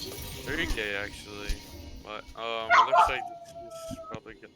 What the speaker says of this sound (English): Sorry about the annoying dog in the background.